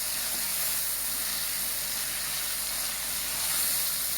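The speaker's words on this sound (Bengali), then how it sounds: "চিংড়ি মাছগুলো দিয়ে এভাবে নেড়ে চেড়ে নিতে হবে" Local prawns frying in a pan for homemade Eid pasta give a steady, close sizzling hiss that holds evenly throughout, with no speech.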